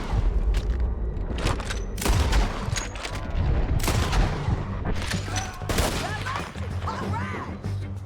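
Rapid bursts of gunfire from several weapons in Red Dead Redemption 2 crack and boom in a dense, overlapping volley, loud and close, with a few shouted voices underneath.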